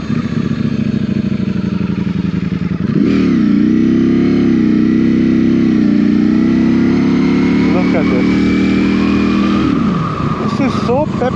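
A 2024 Ducati Streetfighter V4 motorcycle engine runs steadily and loudly, with a deeper rising drone from around three to ten seconds before easing back. Brief voices come in over it.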